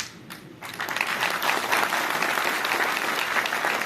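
Applause from an audience at a meeting swells after a brief quiet start and then holds as a steady, dense clatter of many hands clapping.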